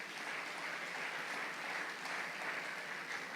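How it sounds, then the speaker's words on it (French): A church congregation claps steadily during a worship service, a dense, even wash of applause with no pauses and no speech on top. "Est-ce que vous pouvez encore acclamer le Seigneur?"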